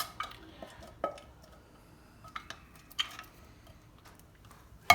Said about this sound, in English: And then mix it up.